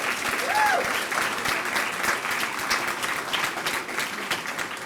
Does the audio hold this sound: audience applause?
yes